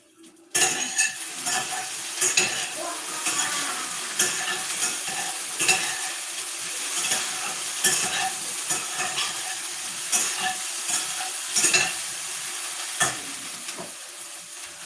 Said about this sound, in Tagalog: Ang ingay ng aking kaserola.